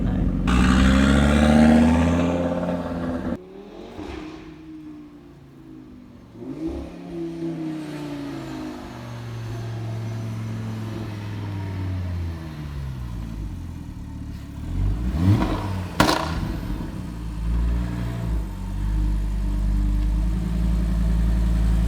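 An Audi RS3 revs hard and accelerates with launch control, its pitch climbing through gear changes, loud and close, with a sharp burst of revving near the end.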